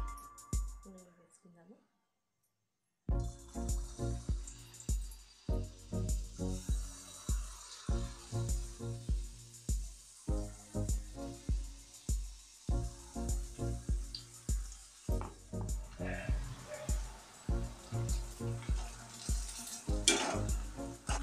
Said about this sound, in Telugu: వీటిని ఆయిల్లో అటు ఇటు తిప్పుకుంటూ ఫ్రై చేసుకోవాలి